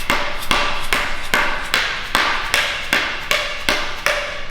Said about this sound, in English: The best way to do this is to just take a hammer that will not damage it. So I use this rubber hammer